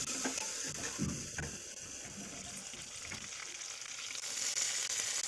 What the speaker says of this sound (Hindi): कटहल को वो हल्का सा फ्राई करेंगी अभी।